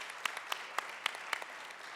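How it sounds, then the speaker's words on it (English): A conference audience claps, faint and somewhat distant, with a few sharp individual claps standing out at regular intervals over a thin wash of hands. "Can we get a round of applause for our Cynthia bots today?"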